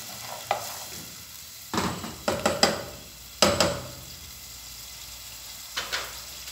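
Onion frying in a pan for a pasta dish, heard as a close sizzle broken by several bursts of stirring and scraping, with quieter gaps between them.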